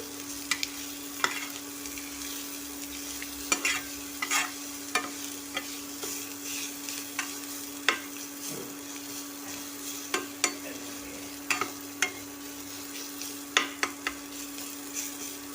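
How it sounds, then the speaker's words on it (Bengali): Sliced onions fry in oil in a pan, a steady soft sizzle broken by irregular clicks and scrapes as a utensil stirs them, close but fairly quiet, with no speech. "পেঁয়াজটা একটু ভাজতে দেব"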